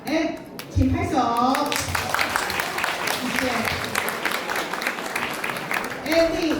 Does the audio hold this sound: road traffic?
no